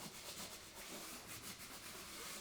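Sandpaper rubbed by hand over a mark left by masking tape on a plaster ceiling, a steady close scratchy rasp with soft back-and-forth strokes continuing throughout, no talking.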